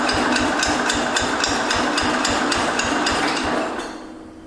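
Engine of a 1968 Cub Cadet 122 garden tractor cranking over in a steady rapid rhythm of repeated knocks, close and loud, then fading out near the end without catching.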